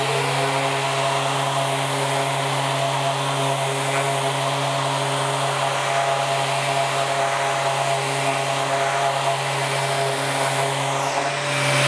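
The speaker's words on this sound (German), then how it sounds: "Und wenn wir jetzt schleifen, möchte sich das Brett bewegen." Steady electric sander whirring continuously against a wooden board, a constant droning hum with no pauses.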